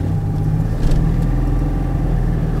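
A 1987 car's engine pulls away gently, heard from inside the cabin as a loud, steady low drone with a faint rise in revs and no talk.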